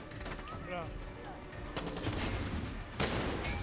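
Cannon blasts and gunfire in the video game Far Cry 6, with dense crackling shots and heavier booms running through the whole stretch, one sharp blast near the end, under a player talking.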